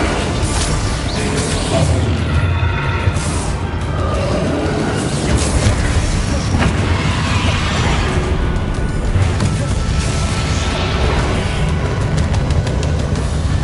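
Explosive spells such as Bombarda and Confringo are cast in the video game Hogwarts Legacy, with repeated loud booms, crashes and impacts in a dense, continuous combat soundscape.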